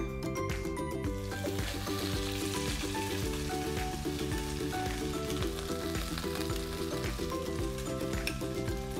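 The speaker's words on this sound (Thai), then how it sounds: "แล้วก็เดี๋ยวเราเอาขนมปังลงทอดกันเลยจ้า" Bread fries in oil in a pan over medium-to-low heat while making Korean-style spicy cheese noodle bread, giving a steady, close sizzle that holds evenly throughout under music.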